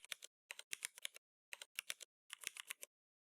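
Computer keyboard keys tapped while writing code, a quick uneven run of crisp close clicks in short bursts separated by brief pauses, no talking.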